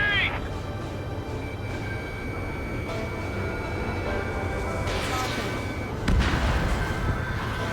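Bombing explosions in the flight combat game Ace Combat 7 during an attack on a base: dull booms and rumbling over a constant engine drone, with a sharper blast near the end and radio voices talking.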